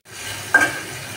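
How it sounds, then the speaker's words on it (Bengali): Potatoes and onions cook in a pan with turmeric, cumin paste, ginger paste, salt, chili powder and water, a steady close sizzle with one sharp scrape of a spoon midway. "মশলাগুলো কষানো হচ্ছে"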